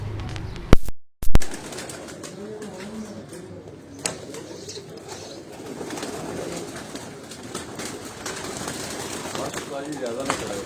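Breeder pigeons coo in a loft, with soft, repeated throaty calls and some wing flaps amid rustling handling noise and a couple of sharp knocks, while people talk nearby.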